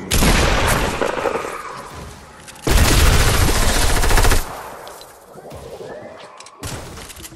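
Gunfire in a Fortnite fight, loud heavy bursts of rapid crackling shots in two main stretches separated by brief lulls, up close, with voices shouting.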